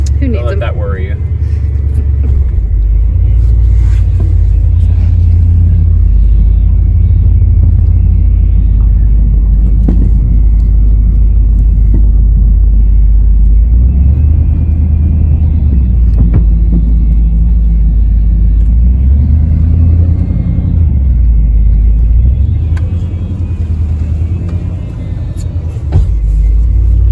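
A 1986 Ford F-150 pickup, long unused and with no working brakes, runs with a steady loud low engine rumble as it rolls along under its own power, with people talking over it throughout.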